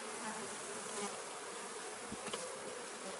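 Honey bees buzz in a dense, steady swarm hum during a hive frame transfer for raising a new queen, close and continuous with a few brief louder passes, no talking.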